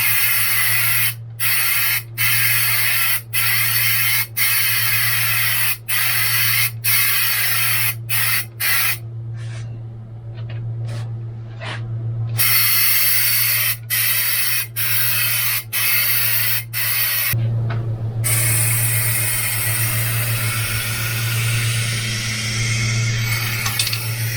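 Aerosol can spraying 3M rubberized undercoating onto a Maxum 1800 boat part, a loud continuous close hiss broken by short regular pauses and a few quick taps, with the spray sputtering as the can runs low.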